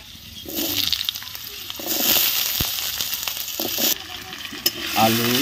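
Potatoes fry in hot oil with panch phoron, dried chillies and bay leaves, a close, bright sizzle broken by scraping stirs and clinks of a spoon against the pan.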